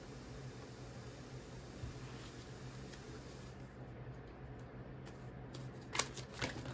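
A deck of tarot and Lenormand cards being shuffled, with a faint, steady riffling hiss under a quiet room hum, then a few sharper card snaps and flicks near the end.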